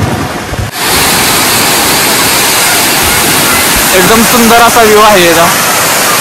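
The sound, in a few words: water pouring from a dam like a waterfall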